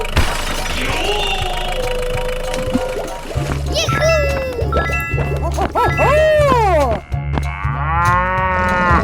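A cartoonish cow moos in a 3D animal slide video game, several drawn-out moos over looping game music, loud and close, with a voice briefly heard.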